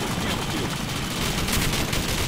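Dense, rapid gunfire from the video game Call of Duty in a nighttime capture-the-flag match on a Rio map, crackling loudly and continuously throughout.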